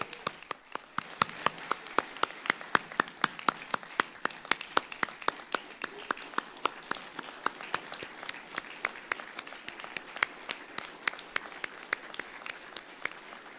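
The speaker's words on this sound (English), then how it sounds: "A final round of applause for our newest group of space test professionals." An audience at an Air Force Test Pilot School graduation claps in a sustained round of applause, sharp individual claps crackling fairly close and evenly throughout.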